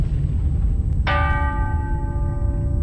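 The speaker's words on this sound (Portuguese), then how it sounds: "os sinos de todas as igrejas começam a tocar a rebate, por si só." Church bells ringing the alarm in Lisbon during the 1755 earthquake: a sudden clear bell strike rings out over a low rumbling background and decays slowly with a long resonant hum.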